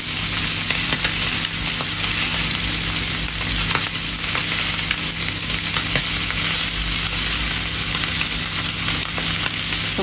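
Steady, loud sizzle of dry frying in a pan while cooking fish and spices for a Bangladeshi home meal, a continuous close crackle with occasional stirring scrapes and no voices.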